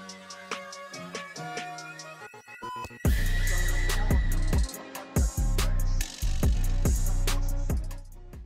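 A ratchet works loose two armrest bolts inside a Seat Ibiza MK3, with a run of close, sharp clicks and pawl chatter, then heavier, louder bursts of ratcheting strokes in rapid repeated pulls.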